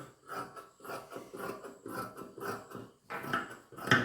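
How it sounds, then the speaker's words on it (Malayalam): Fabric for a fancy top is cut by hand in a quiet room: a series of soft, rhythmic snipping and rubbing strokes, about two per second, close by and alone. "അപ്പോൾ നമുക്ക് ഈ പീസും കട്ട് ചെയ്തെടുക്കാം"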